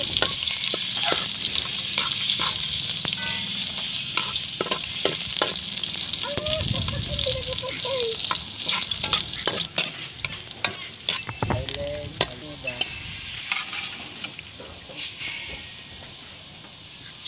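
Garlic and onion sautéing in a pan, a bright continuous sizzle with stirring scrapes and clatters close up, fading somewhat toward the end.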